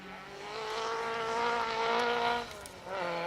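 A Samba Group B 1300 rally car in the H9 class on a rally stage, its engine note revving and shifting as it pulls away from nearby and recedes into the distance.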